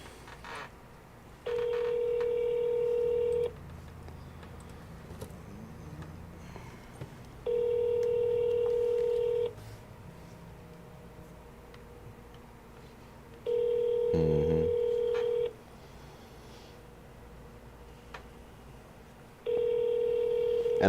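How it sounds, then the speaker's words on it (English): Outgoing phone call ringback tone: four long, evenly spaced rings heard through the handset, each about two seconds with a few seconds of quiet between, under faint background noise. "when it starts ringing"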